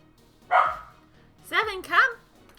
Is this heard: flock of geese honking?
no